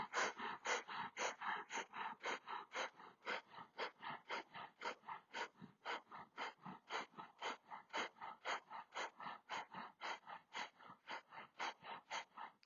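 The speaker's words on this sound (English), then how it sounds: "Lovely, how strong breath of fire." Breath of fire in a Kundalini yoga session: rapid, forceful rhythmic breathing through the nose, steady pulses about two to three per second, close and sustained with no talking.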